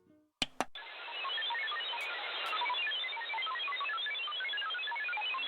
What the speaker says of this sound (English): That's the actual sound of the EMP.